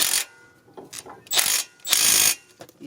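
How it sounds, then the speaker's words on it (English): Clicks of a ratcheting torque wrench tightening a brake bolt on a 2012 GMC Terrain front brake job, coming in three short loud bursts separated by brief pauses, close up with no talking. "let's torque it for 140 foot-pounds"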